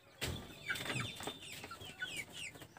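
Chickens on a poultry farm give a steady run of soft, overlapping clucks and short squawks, close by, with a few sharper calls rising out of the flock.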